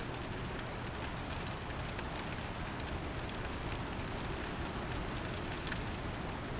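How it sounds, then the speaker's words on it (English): Rain drums steadily against a ship's windshield in Star Citizen, a dense, even hiss of droplets that holds unbroken throughout. "The rain is just incredible. The way it hits the windshield, flies over the cab."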